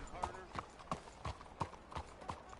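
Horse hooves clip-clop at a steady walking pace in the video game Red Dead Redemption 2, about eight crisp, evenly spaced hoof strikes with a bright ringing tap on each step, quiet and close.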